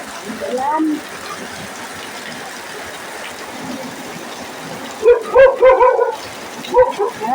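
Dogs bark in short bursts through steady heavy rain, a few scattered barks early, then a cluster of several barks near the end, moderately near over the constant rain hiss.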